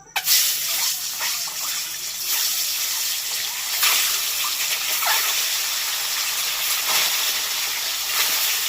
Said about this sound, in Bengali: দেখো তেলগুলো একদম গরম হয়ে গেছে, এইবার ডিমগুলোকে ভেজে নেবো।